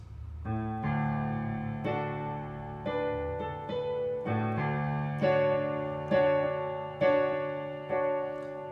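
Piano chords from a song struck together in a steady rhythm, each ringing with a full bass note beneath, about ten strikes in a row, clear and close.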